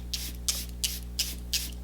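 Five short, bright hissing bursts from a Charlotte Tilbury setting spray mist, spaced at a steady rhythm, close to the microphone over a constant low electrical hum.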